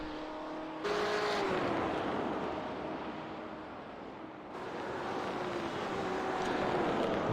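A race car lapping Barber in a racing league, its engine droning with a rising and falling whine as it shifts, steady and fairly loud with a brief dip midway, no voices heard.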